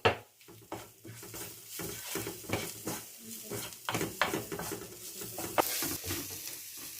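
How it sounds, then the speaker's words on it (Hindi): Whole cumin seeds go into a hot pan and fry with a soft sizzle, mixed with close spoon scrapes and clinks against the metal while someone talks quietly. "और ये डालने लगा हूँ इसमें ज़ीरा थोड़ा सा साबुत।"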